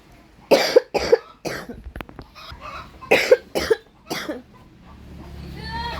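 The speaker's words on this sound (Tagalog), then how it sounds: "Ang sakit sa dibdib pag umubo." Repeated coughing from a person in a home setting, a burst of two loud coughs, a pause, then another pair of harsh coughs, close and clear, fading into quiet room noise with a faint rising tone at the end.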